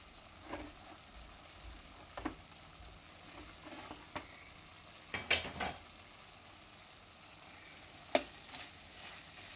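Coconut and coriander being stirred into a ridge gourd and chana dal curry frying in a pan: a quiet, steady sizzle broken by a few sharp spoon scrapes against the pan, with no talking.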